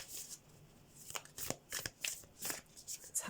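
A Moonology tarot card deck is shuffled by hand, giving soft, quick riffling and flicking bursts in an uneven rhythm that builds and repeats, close and fairly quiet, with no talk over it.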